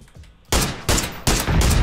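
Three loud, sharp bursts of gunfire from the video game PUBG crack out in quick succession after a quiet half-second. Each burst rings briefly before the next, close and without talk.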